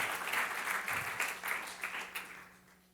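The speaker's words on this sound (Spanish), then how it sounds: "Le damos un aplauso al Señor" A congregation applauding during a church service, a soft, somewhat distant wash of clapping that swells in a few pulses and then fades out.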